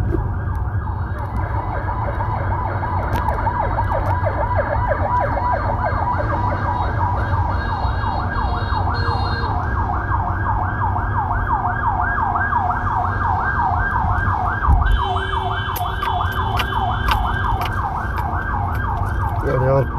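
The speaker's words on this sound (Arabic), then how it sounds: "جوج ديال سيارات الإسعاف، الله يستر." Two ambulances pass in a city street in Tangier, their wailing sirens sweeping up and down continuously and loudly over road traffic noise, with overlapping tones and a faint rumble beneath.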